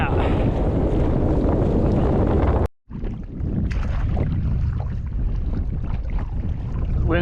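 Strong, steady wind buffets the microphone during a five-mile kayak crossing of Florida Bay, a continuous roar that cuts out briefly and then resumes, with choppy water underneath.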